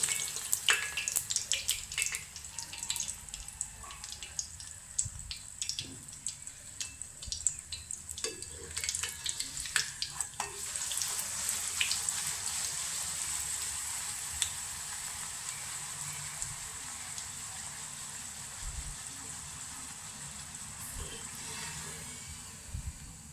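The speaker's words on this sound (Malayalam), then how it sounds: "കുറച്ച് എണ്ണ ഇങ്ങനെ മുകളിലേക്ക് ഇങ്ങനെ ഇട്ട് കൊടുത്താൽ മതി അപ്പോൾ പെട്ടെന്ന് പെട്ടെന്ന് ഇങ്ങനെ അത് പൊളച്ച് പൊളച്ച് വരും" A puri fries in hot oil, with a dense bubbling sizzle that starts busy and crackly, then settles into a smoother, fainter hiss. Scattered small pops break through, and nobody talks.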